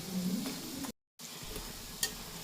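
Ajwain leaf pakodas fry in hot oil with a steady close sizzle, briefly interrupted by a short gap and a light clink of stirring near the end.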